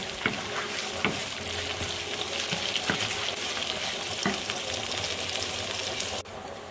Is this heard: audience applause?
no